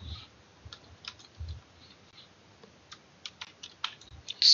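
Typing of code on a computer keyboard, a quiet run of scattered key clicks with a few louder taps and low thumps, close and alone without talk.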